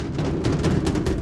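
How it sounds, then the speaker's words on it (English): A box scrapes and drags across a floor in the Star Citizen video game, a continuous gritty rasping effect with repeated rough pulses, fairly loud with no talking. "That's the lame-ass sound effects for moving boxes."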